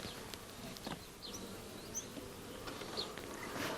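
Low, steady buzzing of a honey bee swarm that has settled to build comb in a roof, fairly faint and continuous, with a few brief closer passes from individual bees and no talking.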